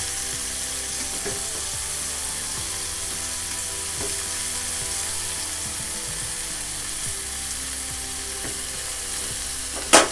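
Clams (kalwa) fry in a pan with a steady, even sizzle, scattered small pops and clicks, and a sharp knock of the pan right at the end, with no talking.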